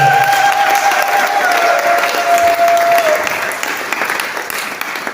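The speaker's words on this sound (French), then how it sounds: "Donne les acclamations au Père" Church congregation applauding and acclaiming during a worship service, a dense, steady wash of clapping with cheers throughout, tapering slightly toward the end, while a sustained tone glides underneath.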